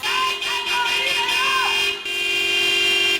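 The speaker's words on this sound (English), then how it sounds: "honk her car horn for prolonged periods of time" A car horn sounds in sustained toots, loud and close, with a shifting tone and a short break before it resumes.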